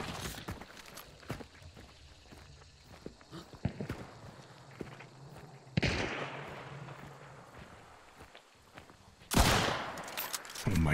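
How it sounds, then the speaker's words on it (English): First-person shooter gunfire from a Berthier rifle, with sharp shots ringing out around the midpoint and near the end, over scattered taps, footsteps and background game noise. "this kicks my weapon out of the hand when I shoot"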